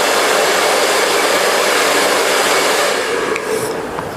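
A hair dryer blow-drying hair with a brush for an in-turn blow dry on a razor or feather haircut, a loud, close, steady rushing roar that eases slightly near the end, with faint brushing sounds.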